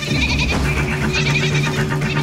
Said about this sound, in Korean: 염소들은 평화롭기만 하다.